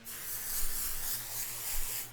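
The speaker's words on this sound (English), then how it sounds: "Why are you spraying?" An aerosol spray hisses in a room in one steady, fairly close burst of about two seconds, with a slight swell near the middle and no voices.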